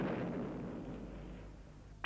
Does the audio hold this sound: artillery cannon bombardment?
yes